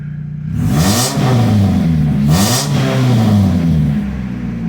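A Chevrolet HHR engine, upgraded and showing a check-engine light, revs up twice from idle in two loud, close throttle blips, settling back to a smooth idle between them.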